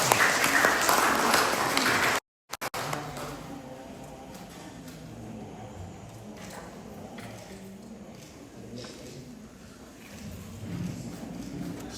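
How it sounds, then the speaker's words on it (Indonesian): A congregation applauds a newly married couple at a Toraja church wedding, with steady clapping loud at first, then a brief cut, followed by quieter crowd murmur and scattered claps. "Mari kita berikan aplaus yang meriah kepada mereka."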